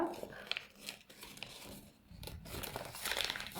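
Sheet of paper being folded and creased into a flying bird shape, close-up crinkling and papery rustles in uneven bursts, with no talking.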